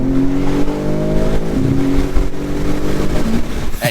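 A BMW M3 CS accelerating hard, its engine note climbing loudly, then dropping abruptly at two quick, aggressive gear shifts before pulling up again, heard close and continuous.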